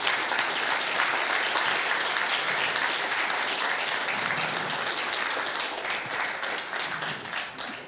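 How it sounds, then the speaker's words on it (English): A conference audience at the Scala IO Paris 2024 developer event applauds steadily, a dense wash of many hands clapping at even strength for most of the eight seconds before thinning slightly at the end. "I wanted to ask you for a big round of applause for Jonathan"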